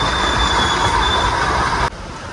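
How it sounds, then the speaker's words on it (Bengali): The Darjeeling steam train rolls past very close, a loud, steady rumble of wagons with a high wheel squeal on the rails that drops away abruptly near the end. "পাশ দিয়ে ট্রেন যাচ্ছে"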